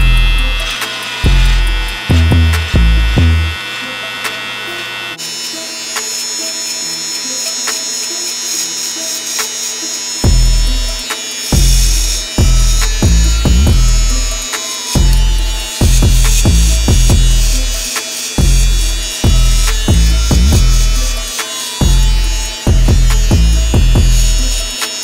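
A hair trimmer shaves a head bald below a guideline during a self-done fade haircut. It buzzes loudly and close, with a rhythmic series of short strokes and no talking.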